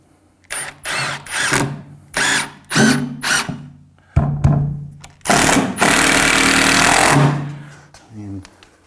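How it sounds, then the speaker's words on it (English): A hammer drill runs in several short bursts followed by a longer continuous grind, loud and close, during wash bay construction, with a person talking between bursts. "Just trying to use a hammer drill."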